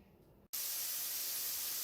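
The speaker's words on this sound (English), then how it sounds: "Gonna get my onion browning in the pan." An onion browning in a frying pan, a sudden loud, steady sizzling hiss that starts abruptly after a short quieter moment and continues without a break.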